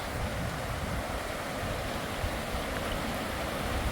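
Stream water rushing into the mouth of a New Zealand cave, a steady broadband wash with a deep low rumble, constant and close with no voices.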